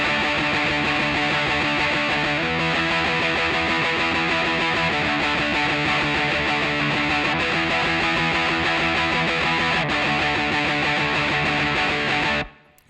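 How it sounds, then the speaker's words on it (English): Distorted electric guitar power chords from a song's pre-chorus, played high on the neck, alternating between two chords in a loud, sustained, close strumming pattern with no speech before an abrupt stop. "Next part to learn is the pre-chorus, and again, just two power chords."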